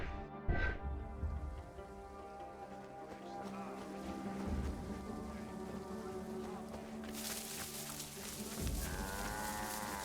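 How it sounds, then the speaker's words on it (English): A cow in ancient Egypt in Assassin's Creed Origins moos in a long, low drawn-out call over a steady ambient wash of game background sound, with a second moo near the end. "Get out of here, cow! You're not supposed to be eating this."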